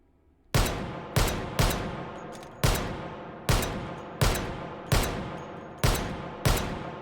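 Rapid, loud gunshots from a Desert Eagle .50 AE pistol in the VR shooter H3VR, nine sharp cracks at roughly 0.7-second intervals with short decaying tails and no talk.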